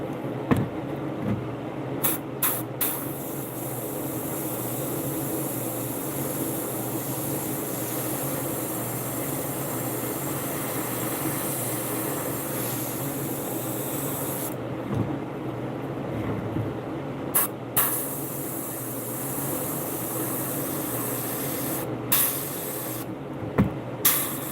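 An airbrush sprays paint onto a stripped bass guitar in a long, continuous hiss, broken now and then by short pauses and light clicks as the trigger is released and pressed again.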